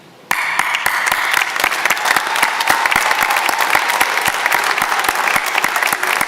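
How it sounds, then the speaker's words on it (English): A graduation ceremony audience bursts into loud, sustained applause after a short quiet moment, a thick wash of many hands clapping that holds steady to the end, with no talk over it. "give them a loud round of applause to say thank you"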